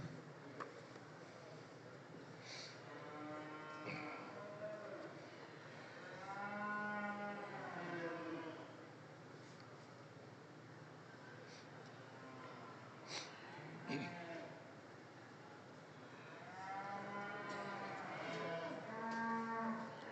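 Texas Longhorn heifers in a show ring at a stock show, mooing repeatedly in long drawn-out calls over a faint indoor background.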